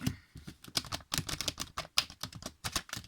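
Oracle cards being shuffled by hand, a quick run of crisp papery riffles and flicks in close succession, sounding close and fairly loud with no talking.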